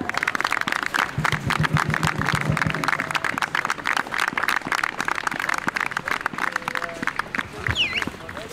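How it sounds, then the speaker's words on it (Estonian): Audience applause at a football club final event, dense continuous clapping at a steady loud level with murmuring crowd noise mixed in throughout. "Are Atra, aplaus!"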